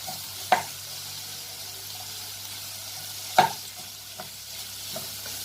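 Onions and beef frying in a pan for a potato beef stew, a low continuous sizzle with two sharp utensil knocks and a few softer stirring taps, close and without talk.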